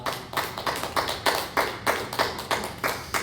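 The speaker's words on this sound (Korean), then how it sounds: "우리 하나님께 영광의 박수를 올려드리겠습니다." Worshippers at a Wednesday church service clap together in a steady, rhythmic beat, about three claps per second, with no talking over them.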